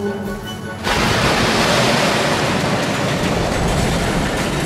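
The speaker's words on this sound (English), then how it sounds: "But the diesel had been switched and plunged off the cliff." Diesel train in the Trainz rail video game plunging off a cliff: a soft rolling rumble that suddenly gives way to a loud, sustained roaring crash wash.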